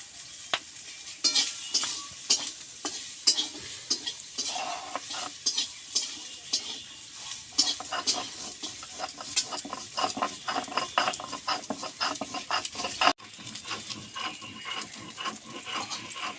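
Poppy seeds and chilli paste sizzle in a frying pan while a spoon stirs with rapid, repeated scraping and tapping against the metal, close and busy throughout, no voices.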